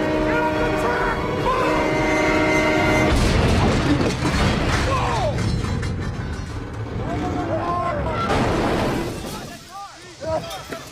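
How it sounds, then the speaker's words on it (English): A train in a superhero film scene where the hero stops it: a loud, blaring horn opens over heavy rumbling and clatter, followed by rough grinding and screeching that fades into scattered sounds, all fairly close. "There's a more extreme case in a movie called Hancock, where the superhero stops a train."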